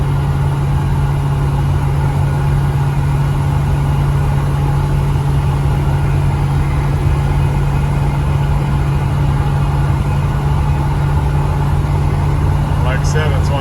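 A 1972 Chevrolet K10 truck engine while driving on the road: a steady, loud, low drone with constant road rumble that stays even throughout, with no distinct changes in pace.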